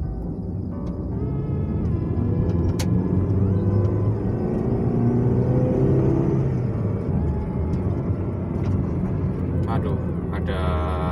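A 1997 Mazda Familia 323 with a 1800cc DOHC engine pulls steadily under way, its engine note rising and falling over a continuous road rumble.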